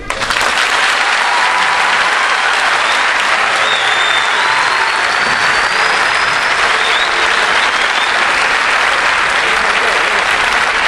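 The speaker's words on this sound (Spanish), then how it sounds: "fuerte el aplauso" An audience in the Teatro Argentino de La Plata applauds at a homage event, with loud, sustained, dense clapping that fills the hall steadily throughout without a break.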